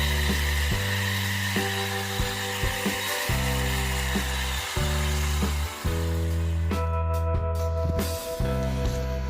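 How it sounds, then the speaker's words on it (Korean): An electric chainsaw runs close and steadily, its motor whining through repeated cuts into weeds and small trees in a rooftop flower bed, with small shifts in pitch as it bites and eases off. "화단을 덮기 전에 풀털과 나무들을 전기톱으로 잘랐어요."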